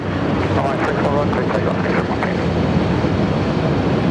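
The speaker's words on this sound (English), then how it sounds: "there's our American 72 just taxiing out now" An American Airlines jet taxiing out at Sydney Airport, a steady, broad engine roar with a wind-buffeted rumble that stays constant throughout, while people talk over it.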